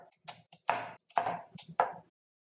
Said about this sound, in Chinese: 把洋葱也切碎备用